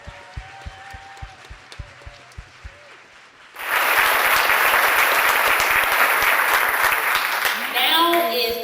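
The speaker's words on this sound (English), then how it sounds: "Now let's give every lady up here a big round of applause." Loud, sustained audience applause and clapping erupts for contestants at a Ms Wheelchair Texas pageant, following a stretch of quieter scattered sounds, and continues steadily to the end.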